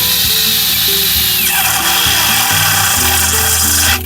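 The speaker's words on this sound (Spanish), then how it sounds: "Para perforar el plástico usaremos una broca de punta de flecha." An electric drill fitted with an arrow-point bit bores into a plastic box, a loud close whine with shifting pitch as the bit grinds through, ending abruptly when the drill stops.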